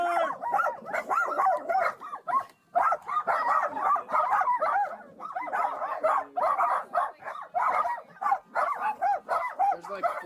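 Many dogs bark, yip and howl in a chaotic chorus inside a hoarding house with 157 dogs during a police search warrant, loud and continuous with overlapping calls and brief gaps.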